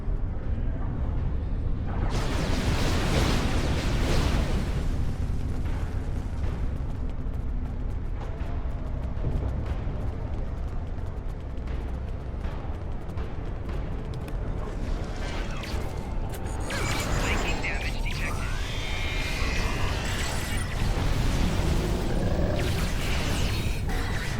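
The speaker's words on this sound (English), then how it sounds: "Now, get to a safe distance and detonate them." Detonated charges explode in Star Trek Online, a dense, loud, continuous barrage of booming blasts and crashing bursts layered with other game effects, with heavier rumbling bursts toward the middle and end.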